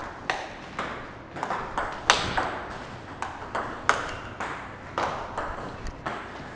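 A table tennis ball is struck with a penhold racket in a drive demonstration. There are a dozen or so crisp pings at a steady rally rhythm, moderately close and fairly quiet, with no talk.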